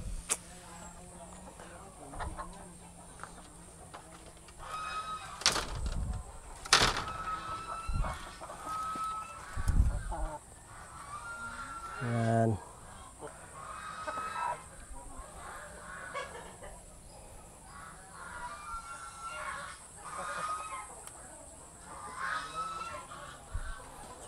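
Assel Shamo chickens on a free-range farm cluck and call at feeding time, with scattered bird calls and clatter over outdoor background noise. A person talks at times.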